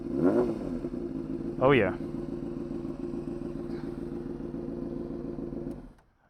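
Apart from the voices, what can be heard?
2003 Honda CBR600RR motorcycle engine revving with raspy tone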